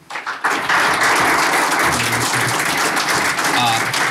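A crowd claps for panelists welcomed onstage at a Slovak discussion event on the decade of democracy, broad sustained applause swelling after a brief quieter start and continuing strongly to the end.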